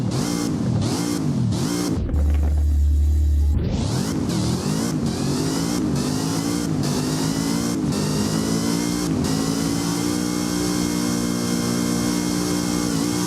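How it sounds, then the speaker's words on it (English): Zenvo TSRS in the Driving Empire game revs repeatedly, with quick rising and falling pitch swings and a short low bog, then climbs into a sustained loud high-rpm wail that holds steady, with no talking. "Let's go ahead and rev it real quick."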